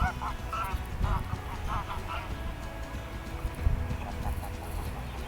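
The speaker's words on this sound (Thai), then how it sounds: "แวะเบิ่งเป็ดค่ะ" A flock of ducks quacking and honking close by in short bursts, loud over a busy outdoor background.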